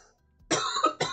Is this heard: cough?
yes